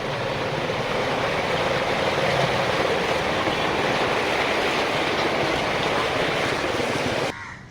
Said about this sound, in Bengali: সমুদ্রের উপরে বোটিং করছি আমরা।